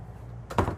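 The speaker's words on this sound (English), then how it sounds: "I love this pantry, if I can get it open." A pantry cabinet door in a 2023 Newmar Canyon Star 3947 motorhome is pulled open: a brief, close knock and rattle comes after a quiet moment, with no talking.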